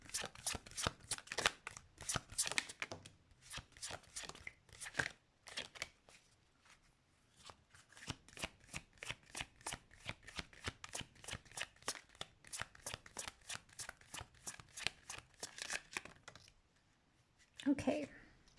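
Tarot cards shuffled by hand in rapid bursts of crisp riffling and slapping, close and fairly quiet, with brief pauses between runs and a short rustle near the end.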